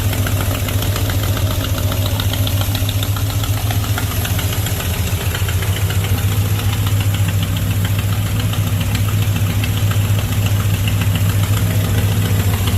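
A 1970 Chrysler Newport convertible's engine runs at a steady idle, close and loud, with a deep continuous rumble and a faint rapid ticking over the whole stretch.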